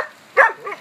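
A dog barks once sharply at a pool kennel, followed by a softer second bark or yip, close and alone.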